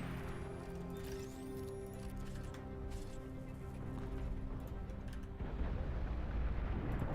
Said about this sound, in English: I'm hearing plasma cannons.